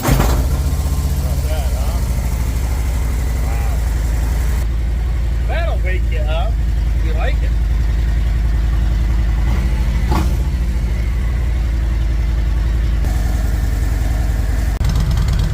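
A Harley Street Glide ST with Reinhardt slip-on mufflers idles with a deep, steady low rumble throughout, close and loud, while someone talks over it briefly.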